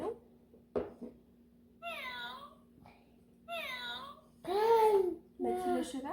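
A cat meows several times in drawn-out, wavering cries, close by in a quiet room, with a faint hum and a click.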